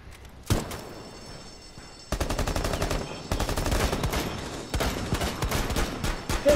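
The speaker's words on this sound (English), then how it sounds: "Pistol shot." Pistol fire in the Rainbow Six Siege video game, a single sharp shot followed by rapid repeated bursts of gunfire, loud and close, with no talk over it.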